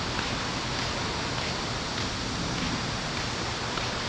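Steady broadband wash of waves breaking on a clean beach on Gureopdo island, South Korea, a continuous, fairly loud surf roar with no distinct individual breakers and no voices.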